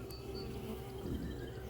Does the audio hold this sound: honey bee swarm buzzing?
yes